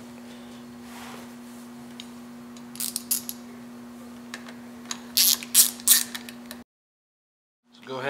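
A ratchet clicks in short bursts as it tightens bolts on a motorcycle cover, close and crisp over a steady low hum, then the sound cuts out.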